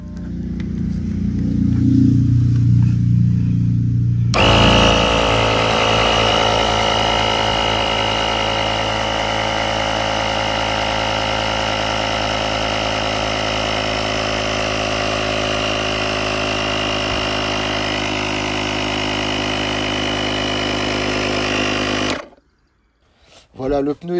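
A JF.EGWO portable battery booster with a built-in compressor inflates a car tyre, running as a loud, steady buzzing motor hum for about eighteen seconds before cutting off abruptly, with a person speaking briefly beforehand.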